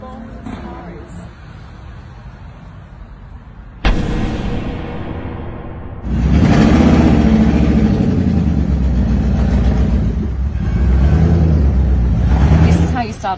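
A Mercedes-Maybach Vision 6 Cabriolet is started up: a sharp ignition onset, then a loud, steady engine drone that swells a little further before settling into a running hum, with someone talking over it.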